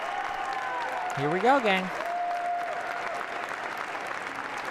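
A crowd at a presidential inauguration applauds steadily in the background while someone speaks over it, the clapping a continuous wash throughout.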